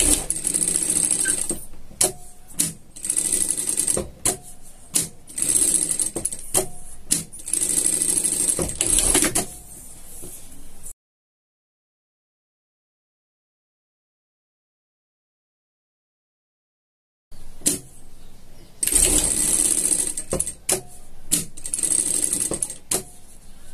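A sewing machine stitches denim jacket lapels in long, rapid mechanical runs with brief stops, pausing in full silence midway before stitching resumes.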